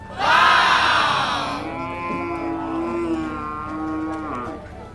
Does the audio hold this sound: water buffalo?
yes